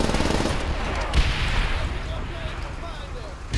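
Gunfire in the video game World at War, with dense rapid automatic bursts and heavy booms from grenade and rocket launchers, loud and continuous.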